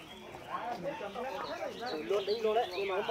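Caged birds in the bird section of a busy year-end border market, soft cooing and chirping calls repeating in a cluster close by, with market bustle around them.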